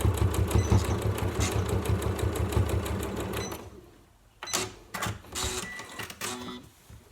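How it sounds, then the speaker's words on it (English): A sewing machine back tacks at the end of a seam on a fabric storage caddy, a loud rapid mechanical stitching run that stops abruptly, followed by a few short clicks and handling bursts. "I'm going to back tack at the end as I did at the beginning."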